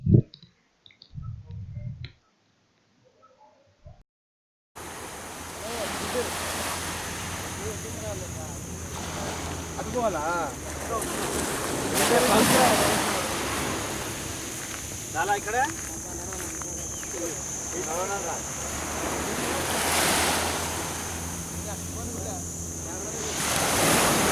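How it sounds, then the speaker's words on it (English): Ocean surf washes onto the beach at Bamboo Island, Thailand, a steady loud roll of breaking waves with wind buffeting the microphone, after a few seconds of quiet talk. "I'm going closer to the waves"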